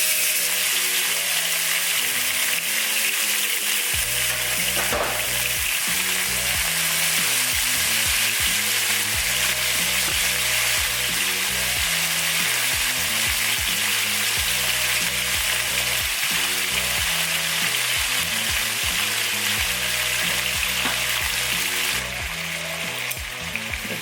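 Thinly sliced beef steak sizzles loudly and continuously in a hot pan, a dense close crackle with brief scraping and stirring knocks, and no talking.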